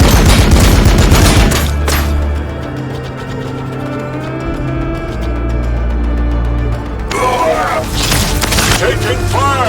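Blood Angels units in Warhammer 40k: Battlesector trade loud gunfire, with dense rattling bursts at the start and again near the end around a quieter humming stretch in between.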